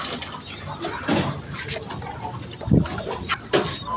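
Soft cooing and chirping from young pigeons nearby, mixed with rustling and a few low thumps.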